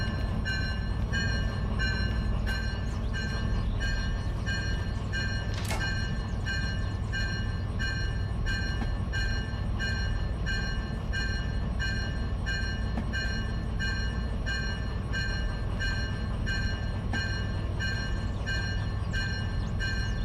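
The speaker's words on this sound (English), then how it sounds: "This is a diesel-electric locomotive." In the Derail Valley video game, an EMD G16 diesel-electric locomotive runs with a constant, heavy engine drone and a steady pulsing mechanical rhythm, loud and unbroken for about twenty seconds.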